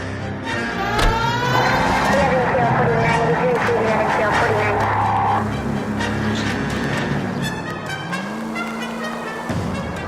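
A car engine hums and whooshes steadily while driving in the video game LA Noire, with tire noise shifting over time. Characters talk over it throughout.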